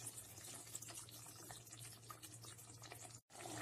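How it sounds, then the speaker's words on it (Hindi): Water is poured into a pot of mutton makhni with tomatoes cooked soft, making a faint continuous splashing trickle over a low steady hum before a brief cutoff. "नेक्स्ट हम इसमें थोड़ा सा पानी डाल देते हैं।"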